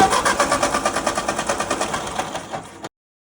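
A tractor engine chugs in a fast, even pulsing rhythm, close and moderately loud, for a few seconds before stopping abruptly.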